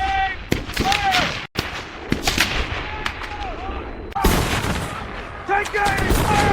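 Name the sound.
rifle volley fired on command at Civil War battle reenactment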